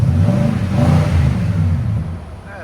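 A 2018 Nissan Titan Pro-4X with a 5.6L V8 and Borla Pro XS exhaust revs up from idle, a loud, steady low rumble that rises and then eases off toward the end, heard close by with no talk.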